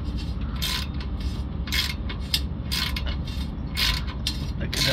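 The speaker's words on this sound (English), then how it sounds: "This is going to cut some new thread in." A thread repair tap is turned by hand to cut a new thread in a damaged NOx sensor port, giving a close, quiet grinding and creaking with irregular ratchet-like clicks repeating over several seconds.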